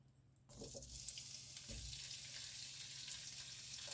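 Shrimp drop into hot oil in a pan and fry with a sudden, steady hiss and sizzle that continues after a brief quiet start, with occasional small knocks and no talking.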